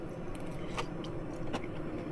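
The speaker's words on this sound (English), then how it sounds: "It's got a little crunch to it." Crunchy air-fried asparagus bitten and chewed outdoors during cold-weather truck camping, a few faint crisp crunches over a steady background hum.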